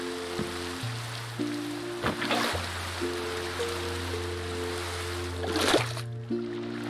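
Flowing water from a waterfall in the Minecraft modpack Sevtech Ages, a soft continuous trickle and splash under steady game music tones with a few brief clicks.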